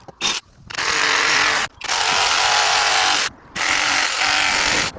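A power drill bores pilot holes in brick for anchor bolts, loud sustained grinding bursts broken by short pauses, three or four runs in close succession.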